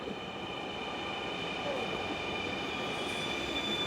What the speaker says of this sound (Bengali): এই মেট্রো রেলটা যাচ্ছে কোথায় মতিঝিল মা এই হচ্ছে মেট্রো রেল